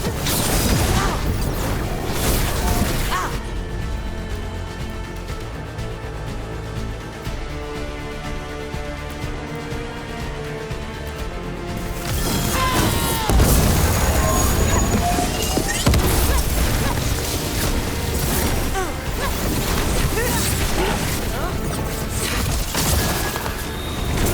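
Video game battle at a necropolis, with dense gunfire, crashes and booming explosions running nearly nonstop, briefly easing into a droning lull before the clatter and blasts surge back loud and close.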